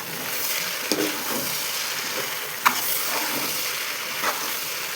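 Tomatoes and potatoes are stirred in a cooking pan, giving a soft continuous sizzle with a few sharp clinks of the utensil against the pan. The sound is close and moderate, with no speech.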